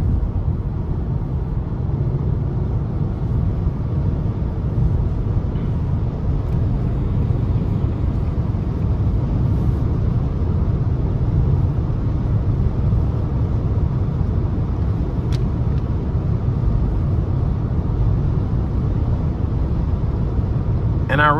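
A 2023 Nissan Leaf S electric car accelerating on a test drive, a steady low road and drivetrain hum with faint higher whine, continuous and moderately loud inside the cabin.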